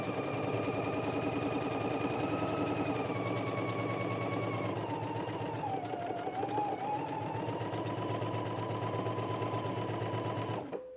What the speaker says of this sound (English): So I'm gonna go ahead and do the basting stitch and then start pressing up the hem.